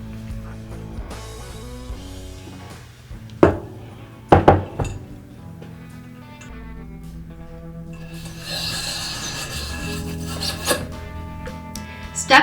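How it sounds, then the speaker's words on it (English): Bronze brush scraping back and forth inside an over-under shotgun barrel, close rasping strokes broken by a few sharp metallic clinks and knocks, with no voices. "Next, we move on to step 2, which is the bronze brush."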